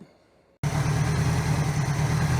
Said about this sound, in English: we got her sitting here idling on this carburetor